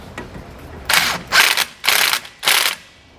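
A ratchet tightens the factory fasteners on a Roadmaster rear anti-sway bar being fitted to a 2015 Ford F-450. Four short, close clicking bursts follow one another with brief pauses between them.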